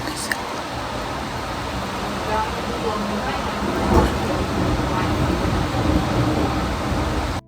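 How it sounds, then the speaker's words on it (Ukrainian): Heavy rain pours in a steady, dense roar that fills the whole stretch without a break. "Такий дощ сильний."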